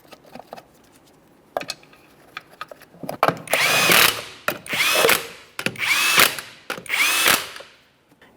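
Power impact tool tightening lug nuts on a 1994-1997 Honda Accord wheel with the hubcap installed: a few scattered clicks, then four loud, close bursts of whirring and rattling hammering, each about half a second to a second long, with short gaps between.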